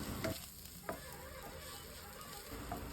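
Bay leaf, dried chilli, panch phoron and a little ginger frying in a very small amount of oil, a faint soft sizzle with a few light stirring clicks, quiet and close, with no talk.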